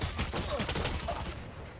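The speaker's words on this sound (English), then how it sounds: "it's a triple shot. Like, this is a pistol shotgun?" Rapid close gunfire from a triple-shot pistol shotgun in Valorant, a dense burst of sharp cracks over busy game sound that fades out toward the end.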